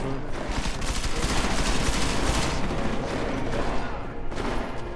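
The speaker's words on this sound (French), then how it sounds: "Sur quoi il tire ces cons?" Dense, continuous gunfire fills the clip, a loud rolling fusillade of overlapping shots and booms with no pauses.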